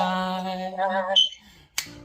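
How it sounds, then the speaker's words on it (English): A single crisp finger snap keeps tempo right after a sung phrase that trails off, with a brief pause before the snap. "you have to have that finger snap so you can remember"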